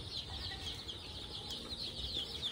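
Local chicks and hens clucking and peeping steadily in a busy flock, a continuous chorus of chirps with no talking.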